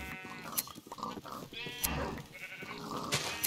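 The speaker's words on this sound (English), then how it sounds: "Got sheep everywhere, literally sheep everywhere." Sheep bleat repeatedly in a Minecraft modded colony farm, several overlapping calls rising and falling close by, with a busy game soundscape and no talk.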